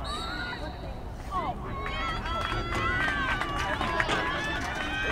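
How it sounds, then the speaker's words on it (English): Crowd cheering drifts over from a nearby baseball field during a girls' high school lacrosse game, Mahopac at Mamaroneck, a sustained outdoor roar of voices with scattered whoops, heard at a distance beneath ongoing activity. "As you can hear some big cheering from the baseball field."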